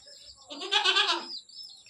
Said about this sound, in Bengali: আর এই ছাগল